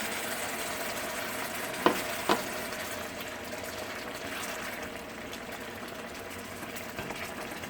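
Turkey broth bubbles and sizzles in a pan with bacon, mushrooms and potatoes, a continuous moderate hiss with two brief knocks early on.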